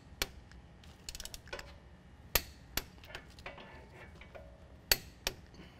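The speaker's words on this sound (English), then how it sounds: "I'm going to tighten these down to 45 foot-pounds, and I'm going to tighten it down in a crisscross pattern" Lift kit bolts being tightened to torque on a 2014-2017 Chevy GMC 1500 4WD, sharp isolated metallic clicks and knocks of a torque wrench spaced irregularly, with faint ratcheting in between, in a quiet garage.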